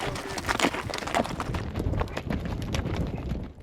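Horses walk at a ranch with repeated hoof clip-clops on hard ground, fairly close and irregular as several animals move together, with faint background noise.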